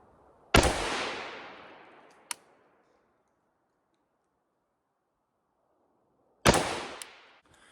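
A Pioneer Arms 556 rifle fires single loud, sharp shots at an outdoor range, two reports about six seconds apart, each followed by a long decaying echo and a faint metallic click.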